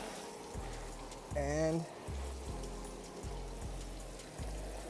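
A water spray rinses down a car in a steady hiss, with repeated low thumps and a brief voice partway through.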